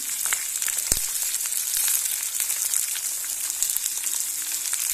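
Onion paste, garlic, ginger and green chillies frying in a pan for a tiger prawn curry, a steady bright sizzle with occasional stirring scrapes and one sharp knock.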